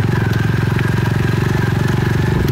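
A motorcycle engine thumping in a steady, fast rhythm while riding toward Ibrahim Hyderi on a Sunday morning, loud and close with wind noise and no clear talk.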